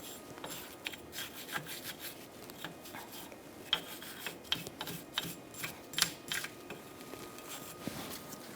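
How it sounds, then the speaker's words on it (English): Wire brush scraping surface rust from rear brake parts on a 2005-2010 Chrysler 300, a steady run of close, gritty scrubbing strokes in irregular rhythm with sharper scratches now and then. "we're going to use a wire brush to clean up all the rust"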